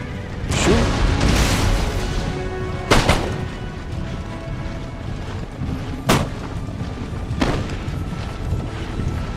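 Russian line infantry firing musket volleys in Total War: Empire, several sharp booming discharges spaced a few seconds apart over a rumbling battlefield din.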